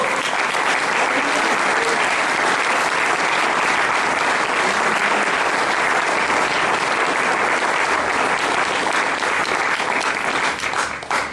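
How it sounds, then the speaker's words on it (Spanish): Loud, sustained applause from a church congregation, a dense and even roar of many hands clapping that holds steady for about eleven seconds before tapering at the end. "Dale un aplauso fuerte al que dice."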